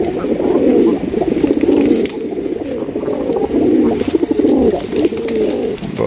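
A male pigeon coos loudly and close by in repeated rolling, throaty phrases over about six seconds, with no one talking.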